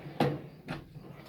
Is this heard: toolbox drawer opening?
yes